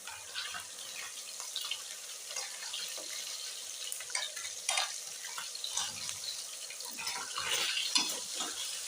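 Fish pieces frying in oil in a pan for a dhaba-style fish curry, a steady crackling sizzle with scattered sharper pops and spatters throughout, fairly close and without talk.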